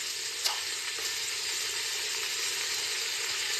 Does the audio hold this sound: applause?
no